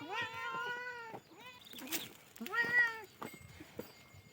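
Several cats meow repeatedly in drawn-out, rising calls close by as milk is set out for them, with a few short gaps and some soft background noise between the cries.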